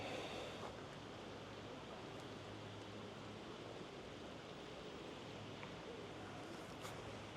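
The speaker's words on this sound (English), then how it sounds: "Came across a little creek." A small creek flows steadily outdoors as a soft, continuous broadband rush that never changes over seven seconds, fairly faint and close to wind-like, with no talking.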